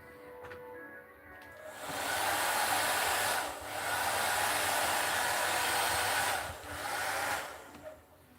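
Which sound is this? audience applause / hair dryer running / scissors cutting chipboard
hair dryer running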